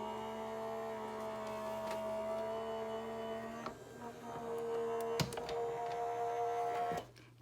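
A Sizzix Big Shot Switch Plus electric die-cutting machine runs in reverse with a steady motor whine, close and moderately loud, ending with a couple of clicks before it cuts off.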